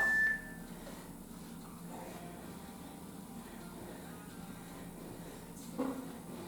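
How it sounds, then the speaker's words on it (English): A single short electronic workout timer beep sounds at the start, then steady background hum with a faint second tone near the end. "Were you waiting for that beep?"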